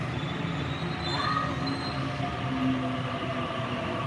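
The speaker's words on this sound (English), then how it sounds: "It's the wrong train." A train rolls past in Japan, a loud, continuous rumble of wheels on rail with faint squealing tones riding over it, steady and near for the whole stretch, with no voices.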